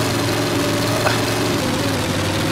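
A truck engine idles in Mudrunner in West Virginia, a steady low rumble that stays constant and fairly loud and close, with faint mechanical ticking over the top.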